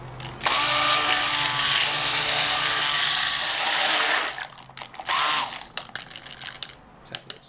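A kitchen blender whirs loudly for about four seconds blending a mango smoothie with ginger and lime, then stops and gives a second short burst, followed by scattered light clatter.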